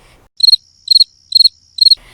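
Cricket chirping alone in four evenly spaced, loud bursts of rapid pulses over a faint steady background hum.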